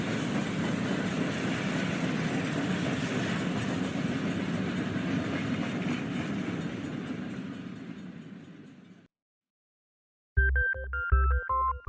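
A train sound effect in a radio drama: a steady rumbling rattle of rolling wagons that fades out over several seconds, followed by silence and then a short burst of tonal signal-like chimes.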